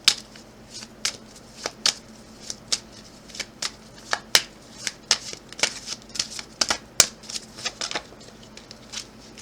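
Tarot cards are shuffled by hand in a long run of crisp, sharp riffling snaps, closely miked and irregularly spaced over a quiet background.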